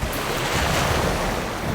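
Ocean waves and surf churning around a small traditional boat at sea, a dense continuous wash with wind buffeting the microphone, close and loud with no voices.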